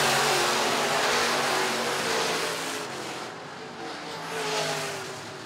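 IMCA Modified race cars roaring around the dirt oval at Wakeeney Speedway during a heat race, a dense, loud wall of engine noise heard from a distance that surges and fades slightly as the pack passes.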